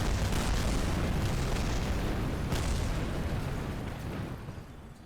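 A rocket launch in Kerbal Space Program roars as a continuous, loud, broadband rumble, steady throughout and fading slightly toward the end, with no voices over it.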